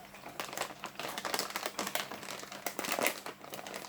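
A new plastic bag of desiccated coconut being opened, a close series of sharp crinkling and rustling bursts, fairly quiet, with no voices.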